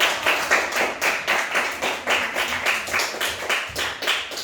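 A classroom group claps together for a presenting team, a steady burst of many hands that stays fairly even and close for a few seconds before fading slightly.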